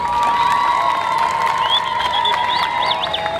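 A rally crowd at a women's council gathering in Kyela applauds and cheers in a dense, steady roar, with shrill tones rising above it throughout.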